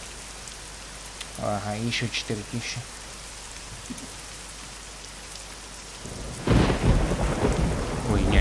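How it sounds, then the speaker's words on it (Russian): Rain and thunder in Euro Truck Simulator 2: a steady hiss of rainfall runs throughout, and a loud rumbling surge near the end. Someone speaks briefly early on. "О, дождь пошел."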